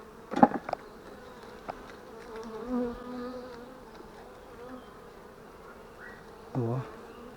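A dense, steady hum of many honey bees buzzing close by in an open hive during an inspection, with a few louder individual buzzes passing near and faint handling knocks of frames.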